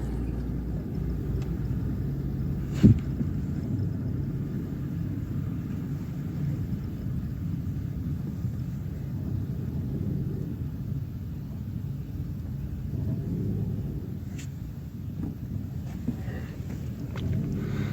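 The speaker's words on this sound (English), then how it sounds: "We are driving along the Maimahiu escarpment." A car driving along the Mai Mahiu escarpment in Kenya, a steady low engine and road rumble inside the cabin with wind noise and a couple of brief knocks, continuous throughout.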